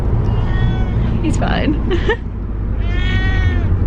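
A cat meows from the back of a moving car on the way to the vet, giving a few drawn-out cries over a steady road rumble, with a person speaking briefly.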